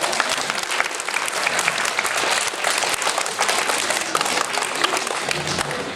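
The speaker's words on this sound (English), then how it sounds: "give your moms and dads a big round of applause" A crowd at a 2013 elementary school concert and ceremony in Virginia claps loudly and steadily in a dense, sustained round of applause.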